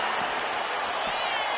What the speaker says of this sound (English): This crowd is thunderous right now.